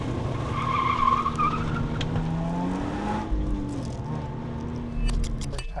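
A sports car's tires slip and squeal during a hard launch from standstill at a 0-60 run, a loud rising squeal over the strained engine note that fades as the car gets away, with no speech.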